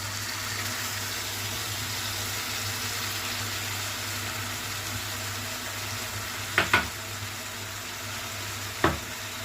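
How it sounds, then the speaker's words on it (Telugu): Bitter gourd curry frying in a pan as tamarind pulp goes in: a steady soft sizzle with a low hum, broken by a couple of brief scraping clinks of a spoon near the end. "చింతపండు గుజ్జు కూడా వేసేద్దాం"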